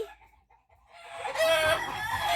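A fighting cock crows loudly and close by, with hens clucking around it in a busy farmyard.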